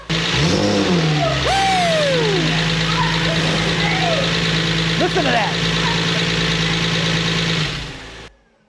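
A rebuilt Porsche 911 4.0 engine idles steadily with a low, even hum, while a man whoops excitedly and talks over it.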